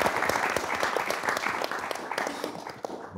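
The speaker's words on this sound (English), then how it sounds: "I think we should actually clap for that one." Small audience at a music producers' conversation panel clapping, a brisk, fairly close patter of hands that carries on steadily and tapers off at the close.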